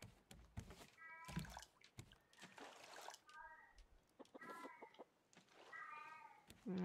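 A cat in the survival video game Raft meows repeatedly in short, tonal calls scattered among splashing and clicking game sounds, with a person talking between them.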